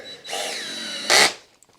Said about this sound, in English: I like using these drills that have the little bit of a clutch on them